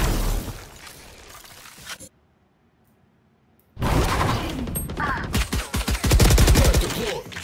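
A grenade bursts in the tactical shooter game Valorant: a loud broadband blast erupts after a quiet gap, followed by sustained rapid gunfire-like crackling, close and dominant.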